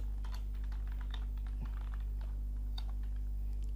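Computer keyboard keys are typed in quick, irregular clusters of light clicks while a PHP artisan command is entered, faint and close-up over a loud steady electrical hum, with no voices.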